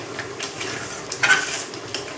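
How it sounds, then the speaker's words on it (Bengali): Bubbling simmer in a pan, with a few utensil scrapes and clinks against the pot, close and fairly quiet. "ভালোভাবে ফুটছে, অনেকটা ঘনত্ব হয়েছে"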